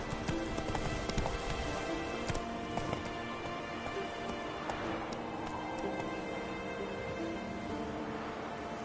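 The horse Roach trots in The Witcher 3: Wild Hunt, a rapid clip-clop of hooves with sharp ticking hits, steady and moderately close over soft ambient game sound.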